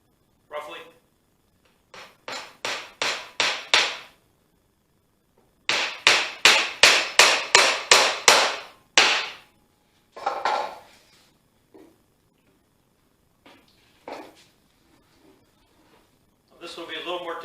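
A hammer drives 4-penny finish nails into a wooden bird house in sharp, close bursts of rapid blows, each run quickening and rising, then a few lighter taps with silence between.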